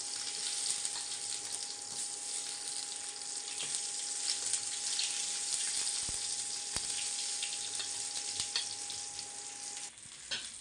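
Tomatoes and garlic roasting in a hot pan give a steady, close, bright sizzle that hisses without pause, with a few faint scrapes and a soft tonal hum underneath and no voices.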